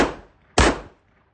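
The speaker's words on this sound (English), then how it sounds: "literally just going to be some Mozambique, shoot the chest, one to the head with the gun" Two sharp, loud pistol shots from a Smith & Wesson M&P 2.0 on a shooting range, about half a second apart in a quick Mozambique drill, each cracking hard and decaying fast into quiet.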